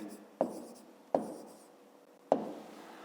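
Chalk or pen writing a fifth-grade math exercise, three sharp strokes at roughly even intervals, each fading slowly, fairly quiet and close.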